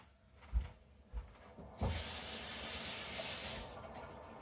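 Tap water running while hands are wetted before handling sourdough, a few soft thumps and then a steady close hiss of flowing water filling the rest of the moment.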